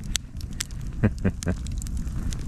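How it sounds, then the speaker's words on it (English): A campfire burns outdoors at night, giving off several sharp crackles and pops over a low rumbling background. "That is how you do a campfire."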